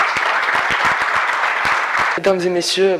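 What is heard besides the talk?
audience applause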